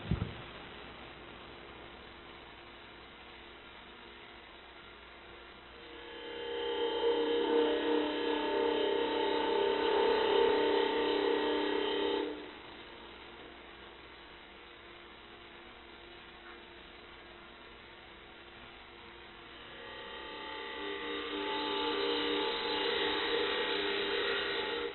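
A parting tool cuts into wood spinning on a lathe in two sustained passes, each a harsh whirring grind over a quieter motor hum between them, heard close with no talk.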